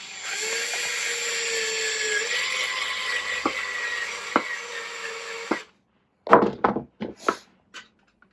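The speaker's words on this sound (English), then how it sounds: "I'm using the electric screwdriver in conjunction with a regular hand screwdriver" A handheld electric screwdriver whines steadily while driving screws into soft wood during assembly of a vintage-style Ashford weaving loom, with a few dull knocks, then a pause and several short, close buzzing bursts.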